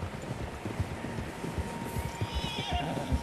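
Several horses in the Red Dead Redemption 2 video game, with soft hoof clip-clops and a snorting whinny, heard under a low wind-like outdoor ambience at modest level.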